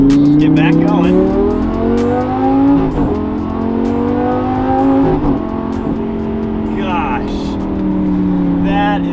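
A Lamborghini's engine drones loudly and steadily as the car drives, its pitch rising and falling with the revs throughout, while a person speaks over it.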